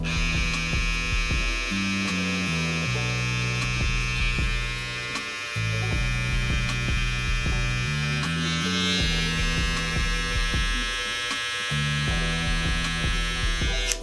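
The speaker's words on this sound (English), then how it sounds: "These trimmers are pretty quiet" A TPOB Blackout X Deluxe hair trimmer running at 7200 RPM gives a steady electric hum and buzz throughout, close and fairly loud, with its pitch shifting slightly and faint handling noises over the top.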